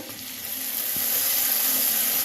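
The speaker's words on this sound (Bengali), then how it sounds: "এবার আমি সব মশলাগুলো ভালোভাবে ভেজে নেব।" Ground spices such as chilli and turmeric powder frying in a pan for an egg mustard curry, a steady close sizzle hissing continuously without talk.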